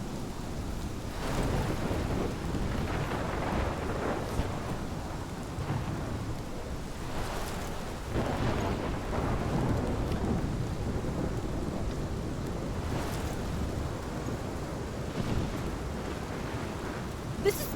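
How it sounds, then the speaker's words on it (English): A heavy thunderstorm in the video game Life is Strange: steady roaring rain and wind, with repeated rumbling thunder swells throughout. "This is my storm."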